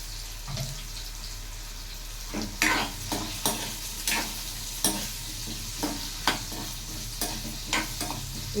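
Ingredients for a curry fry in a pan, a steady low sizzle under sharp, irregular scrapes and clinks as a spoon stirs them about, close by with no talking.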